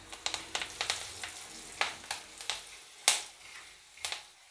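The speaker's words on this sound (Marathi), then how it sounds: "मिरच्या तेलात चांगल्या फ्राय करून घ्यायच्या आहे म्हणजे मिरच्यांचा तिखटपणा कमी होईल." Green chillies spitting in hot oil with asafoetida and curry leaves for spinach pithla, a run of sharp crackling pops over a soft steady sizzle, close and loud, with one especially sharp burst near the middle.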